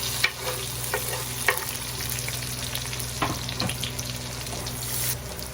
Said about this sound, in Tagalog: Halo na po natin yung sibuyas.